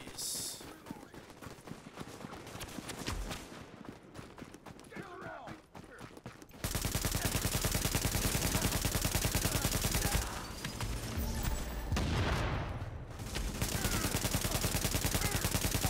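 Sniper gunfire in The Division on PC, with sharp shots and chaotic combat noise that turn loud and dense about halfway through, under players talking.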